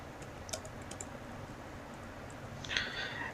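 Computer keyboard typing during data entry in Tally Prime, a few light, close key clicks near the start and a quick burst of taps near the end, faint against a quiet room hum.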